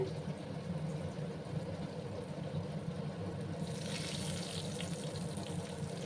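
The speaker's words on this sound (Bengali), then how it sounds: "মিক্সিং জারটা ধুয়ে নিচ্ছে ভালো করে।" Water splashes and swirls inside a mixer jar as it is rinsed out in a kitchen, a continuous wash of noise that grows brighter and louder partway through, with no talking.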